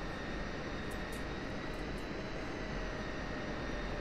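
F-16C Viper jet engine idling on the ground before takeoff in the DCS flight simulator, a steady, loud, unbroken roar with a faint high whine over the whole stretch.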